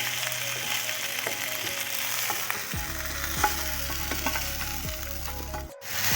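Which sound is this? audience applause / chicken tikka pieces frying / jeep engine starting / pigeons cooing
chicken tikka pieces frying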